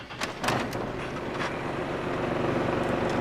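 A GMC engine running with a rough, uneven idle after starting, a loud continuous rumble with a brief burst near the start, and no voices.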